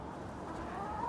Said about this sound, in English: And so when we first started, we just got Rhode Island red chickens.